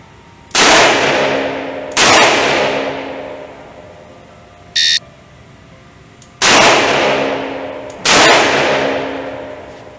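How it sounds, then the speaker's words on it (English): A circa-1975 Colt Python revolver fires four loud, sharp shots at a shooting range, in two pairs with a brief electronic timer beep between them, each crack ringing and decaying quickly. "On command, fire 2 rounds in 3 seconds and assume the ready position."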